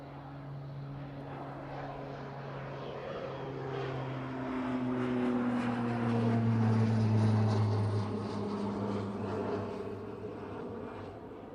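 A Specsavers Beechcraft King Air propeller plane departs East Midlands Airport toward Southampton, its engine drone swelling gradually, peaking, then easing off as it climbs away, with no voices.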